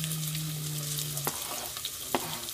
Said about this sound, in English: So the onion is gonna fry.